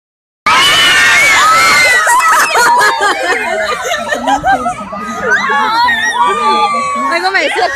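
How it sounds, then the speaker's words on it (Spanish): A crowd of fans at a meet-and-greet with the voice actors of Miraculous Ladybug bursts into loud, sustained high-pitched screaming and shrieking that starts abruptly and continues throughout, with cheering and scattered excited shouts. "Algo me decía que iban a gritar."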